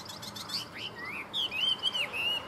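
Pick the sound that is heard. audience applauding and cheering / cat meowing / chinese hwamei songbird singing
chinese hwamei songbird singing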